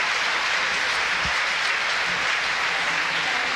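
Spectators at a British swimming championships finals session applaud a swimmer, a steady, dense roar of clapping that holds at an even level throughout, with no break.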